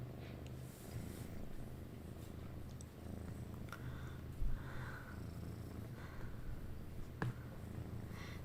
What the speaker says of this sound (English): Thanks for loving my cat.